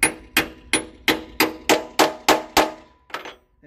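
A hammer strikes a steel hole punch through a leather snowboard binding strap, eight sharp, evenly spaced metallic blows about every third of a second, then a fainter final tap, loud and close with no talking.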